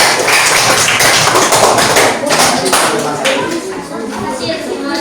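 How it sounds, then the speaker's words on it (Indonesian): Classroom applause for a student group, a dense burst of many hands clapping together, loud and close, slowly thinning toward the end. "Tepuk tangan untuk kelompok"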